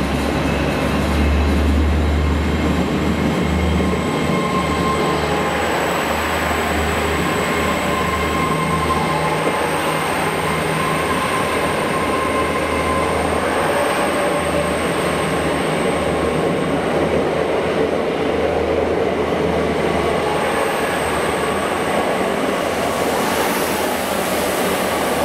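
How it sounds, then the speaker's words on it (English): A London-to-Cardiff steam-hauled train, pulled by Black 5 locomotive 44871, rumbles steadily past at Bridgend for a long stretch, a continuous heavy roar with a faint high whine from the wheels and rails, no talking. "Here we have the London train, which is now going to head down to Vale"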